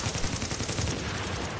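Rapid automatic gunfire in the video game The Division, a steady dense stream of shots across the whole short stretch.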